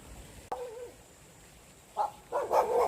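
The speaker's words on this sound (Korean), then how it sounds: "동네 개가 까부네." A neighborhood dog in a countryside village barks from some distance: one short yelp, a pause, then a quick burst of two or three sharper barks near the end, with no talking.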